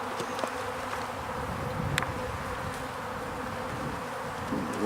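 Honeybees buzz steadily and close up during a beehive inspection of a failing hive, a continuous droning hum with no talk.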